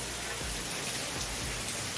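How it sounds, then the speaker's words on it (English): Steady, dense rain pours down during Hurricane Helene in Georgia, a constant loud hiss with occasional low rumbles of wind beneath it, no voices present. "The rain is starting to come down."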